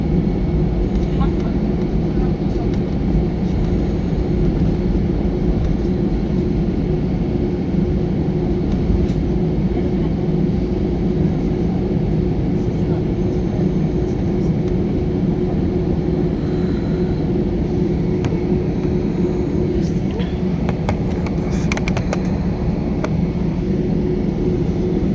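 An Airbus A320 taking off from Bangkok airport, heard from inside the cabin as a loud, steady, broadband engine roar that holds throughout with little change.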